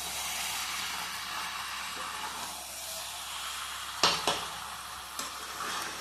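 Mutton and potato curry sizzles steadily in oil in a wok, a continuous close hiss with a couple of sharp utensil scrapes and clinks near the end.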